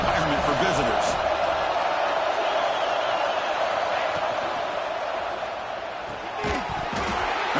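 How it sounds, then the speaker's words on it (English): A stadium crowd at a football game roars in a steady, dense wash of cheering, with a commentator's voice talking over it and a brief lull before the noise swells again. "Listen to the crowd energy here in the early going"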